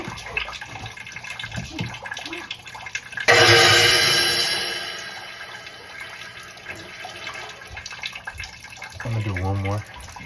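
Water gushing from a clogged AC drain line, a sudden loud splashing rush that starts abruptly and tapers off over a couple of seconds, with someone talking before and after.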